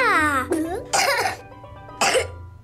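A child in an audio drama coughs from flour dust while baking, giving several sharp, close coughs in bursts with short gaps, with a brief voiced sound near the start.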